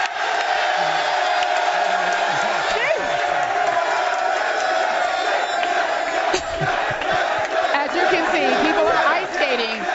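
A large crowd roars and cheers continuously, with loud whoops and shouts in a dense, sustained din, while voices talk over the noise throughout.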